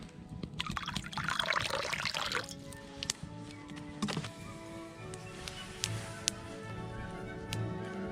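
Water poured into a pot for boiling at a solo winter camp in the Catskill Mountains: a short, fairly close splashing pour, then quiet trickles and a few light metallic clinks.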